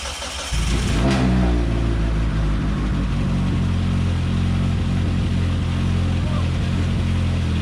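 A car engine cranks and catches after a round of upgrades, then settles into a loud, steady rumbling idle with slight revving, close by and continuous, with a voice briefly audible near the start.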